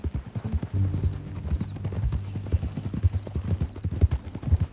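Horse hooves clip-clop at a steady walking pace in the Western video game Red Dead Redemption 2, the clear rhythmic thuds continuing throughout over a low background hum.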